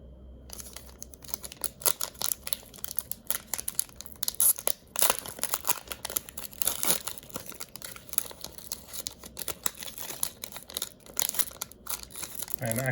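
A Pokémon Shining Fates booster pack being torn open, foil wrapper crinkling and ripping in dense, close, continuous rustles and crackles with no voice over it.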